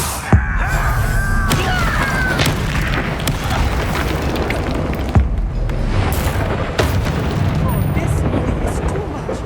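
Bombarda and Confringo spell explosions in the video game Hogwarts Legacy, a series of loud booming blasts and sharp pops over a thick rumbling bed of combat noise, with voices heard among the impacts.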